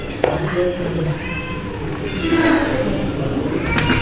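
Cats in a cat shop meow several times across the clip, moderately close. People talk over them throughout.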